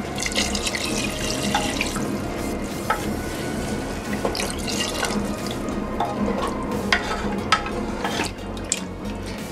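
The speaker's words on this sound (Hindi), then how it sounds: "पानी ऐड कर लेंगे।" Water is poured into a pressure cooker of chicken pulao. The pour makes a continuous, splashing stream for several seconds, with small drips and clinks near the end.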